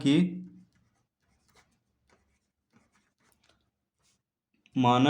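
Pen writing out a class 9 geometry solution on paper, faint scratchy strokes between bursts of speech at the start and end.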